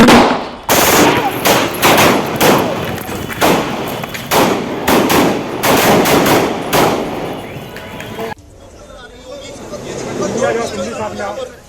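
Rapid bursts of gunfire crack in a dense, loud volley for several seconds, then stop abruptly, leaving muffled commotion and distant voices.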